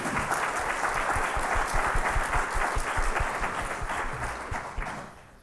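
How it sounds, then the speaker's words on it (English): Steady audience applause at a user-experience web series event, a full room of clapping held at an even level before tapering off at the end, with a few distinct claps standing out near the microphone. "Let's have a round of applause."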